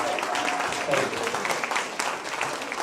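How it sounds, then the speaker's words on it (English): An audience at a San Diego Music Hall of Fame event cheers and applauds, a steady dense wash of clapping and crowd noise filling the room for a few seconds at moderate volume. "Now's a good time to cheer."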